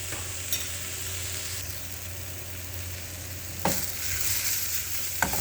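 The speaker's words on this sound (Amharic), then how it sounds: "በዚህ መልኩ እየበሰለ ነው ሽንኩርቱ" Onions fry in a pan on the stove with a steady, moderate sizzle, broken by a few spoon scrapes and stirs.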